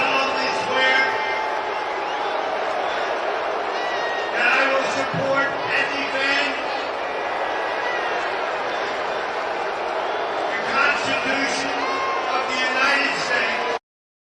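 A large crowd boos throughout as the commander-in-chief reads the oath of enlistment, a dense, steady roar of many voices that swells in places, with a voice speaking underneath.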